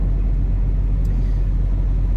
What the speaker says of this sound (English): The truck is idling.